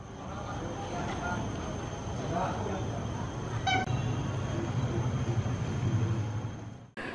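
A train at Prabumulih railway station rumbles steadily on a busy post-Lebaran day, with a brief metallic squeal partway through and crowd noise and talk around it throughout.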